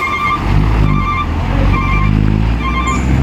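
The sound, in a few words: Epastar bus arriving at terminal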